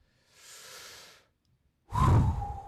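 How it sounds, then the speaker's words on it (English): Two deep breaths from a man: a soft, slow inhale, a pause, then a louder, heavier exhale close to the mic. "Right there. Deep breath."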